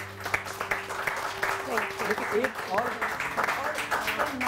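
A studio audience on a Pakistani morning talk show applauds for Saima, with scattered clapping building under a presenter's ongoing speech.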